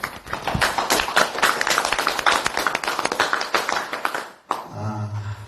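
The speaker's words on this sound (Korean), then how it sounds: "박수로 한번 해주세요" Clapping from the audience at a church leadership academy lecture on preaching, lively and uneven for about four seconds before it cuts off abruptly, followed by a brief low hum.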